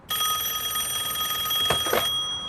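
A telephone bell rings steadily and loudly for about two seconds, with a brief clattering burst near the end as it stops.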